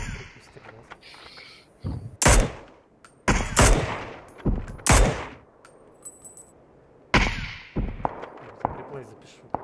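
Gunfire in the battle royale game PUBG comes as several loud, sharp bursts of shots spread across the clip, with a voice talking between them.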